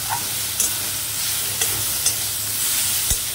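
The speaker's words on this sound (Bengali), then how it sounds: "মাশরুম আর পেঁয়াজটা হালকা হালকা ফ্রাই হয়ে গেছে" Steady sizzling of mushrooms and onion frying in a hot pan, broken by a few soft clicks and scrapes of stirring.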